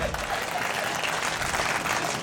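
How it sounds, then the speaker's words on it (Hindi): An audience at a Hindi comedy poetry gathering breaks into continuous crowd applause, a thick, even patter of many hands that holds steady from start to finish, fairly loud and close. "ताली कमजोर है"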